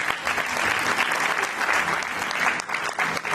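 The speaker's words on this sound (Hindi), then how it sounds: "जोरदार तालियां बजाएं" A crowd at a church youth seminar claps steadily and enthusiastically, a dense continuous applause with no pauses.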